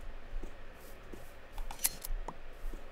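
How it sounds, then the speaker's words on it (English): Shears clip wool from sheep in a survival video game, giving several quick, crisp metallic snips spaced across a few seconds, close and fairly clear over a faint background. "I'm gonna shear these sheep"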